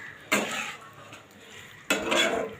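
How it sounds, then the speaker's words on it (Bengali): Paneer yakhni being stirred in a pan, two distinct bursts of spoon scraping and clinking against the metal about a second and a half apart, with quiet kitchen background between them and no talking. "এখন অল্প নাড়বো চাড়বো"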